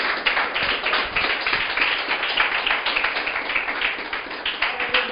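Congregation at a church sermon applauding together, a dense steady wash of many hands clapping throughout, fairly loud and continuous.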